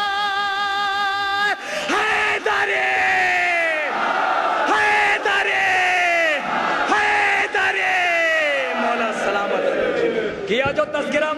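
A large crowd at a religious celebration for the birth anniversary of Hazrat Ali answers a slogan, with loud, sustained massed shouting in several long bursts, voices swelling and falling together, followed by a ragged tail of yells.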